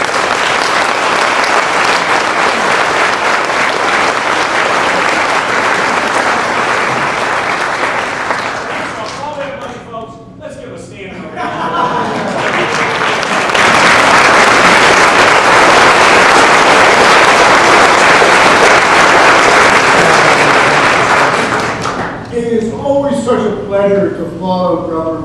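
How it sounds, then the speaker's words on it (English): Loud, sustained applause from a large press conference audience, fading briefly in the middle before surging again, with a voice speaking over the tail end. "let's give him a great round of applause"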